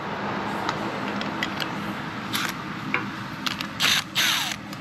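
A ratchet wrench loosens the bolts of a worn rubber driveshaft coupler on a Jaguar XF, making short bursts of rapid metallic clicking between quieter pauses, close by and without speech.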